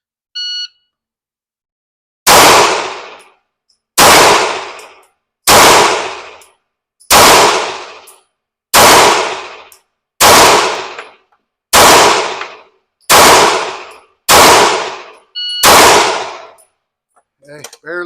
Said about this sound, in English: I felt my grip loosen up on 2 of those shots